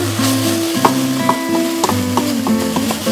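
Vegetables sautéing in a hot pan, a loud close sizzle with stirring knocks at a loose rhythm over a steady tonal hum from nearby equipment.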